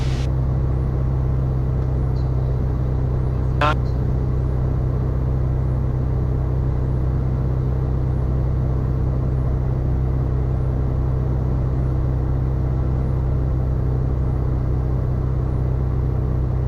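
Steady, loud droning cabin noise inside a small aircraft on a one-mile final approach to runway 2 at Tangier Island, a constant engine and airframe rumble with no speech.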